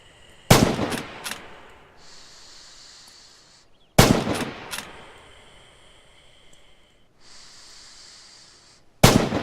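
Rifle fire in the Red Orchestra 2 video game during a firing-range drill: three sharp, loud bursts of shots, each followed by a fading hiss-like tail, spaced roughly three to four seconds apart with no talk.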